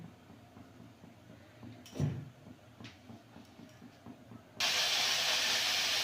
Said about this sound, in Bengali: তেল দিয়ে ফুলকপিগুলো ভেজে নেবো